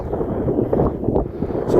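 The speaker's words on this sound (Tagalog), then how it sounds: "Sobrang lakas pala ng hangin dito." Strong wind buffets the microphone on the summit of Mount Timbak in Luzon, a continuous low roar that gusts and swells throughout, with no other sounds audible.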